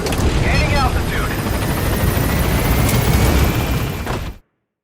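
Helicopter rotor and engine roar, loud and steady, from a P-Quad gunship climbing away from a landing zone in Metal Gear Solid V, with a radio voice over the noise before everything cuts off abruptly near the end.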